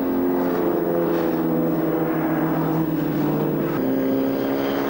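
A Jowett Jupiter racing car drives at a 1999 Silverstone club race meeting, its engine a steady droning hum with a slight pitch shift as it passes, loud and without speech.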